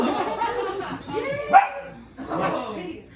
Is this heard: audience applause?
no